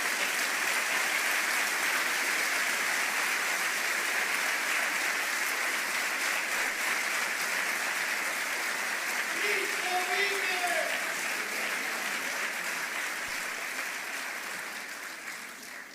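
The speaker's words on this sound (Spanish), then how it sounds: "Dale fuerte tu aplauso al Señor." A church congregation applauding loudly and continuously in a large crowd, a dense sustained clapping that holds for most of the time before tapering off slightly at the end.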